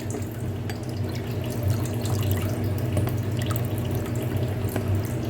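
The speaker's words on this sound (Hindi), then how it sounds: "अब हम इसके अंदर पानी डालेंगे।" Water is poured into a pressure cooker holding hassowa dal ingredients, giving a continuous splashing, trickling flow with small drips over a low kitchen background hum.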